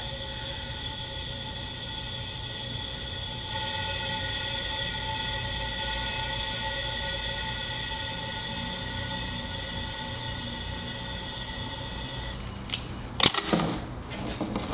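Compressed air steadily hisses into a resin casting pressure pot being brought up to 45 pounds for Alumilite segmented block molds, a constant broadband rush with faint tones, then a few sharp clicks and knocks near the end.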